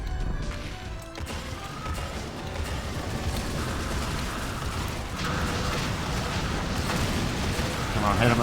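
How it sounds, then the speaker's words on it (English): Grenade explosions in modded DOOM 2, a dense, continuous barrage of crashing blasts and rumbling impacts that swells louder toward the end, with a voice talking over the chaos. "Okay, I hear grenades."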